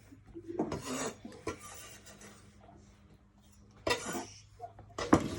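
Reese's peanut butter cups being folded into homemade brownie batter, giving soft scraping and rasping strokes in a bowl with a few sharper clinks of the utensil, close and moderately loud with no talking.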